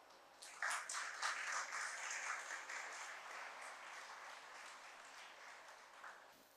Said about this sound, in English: maybe we should give a round of applause to the team for their hard work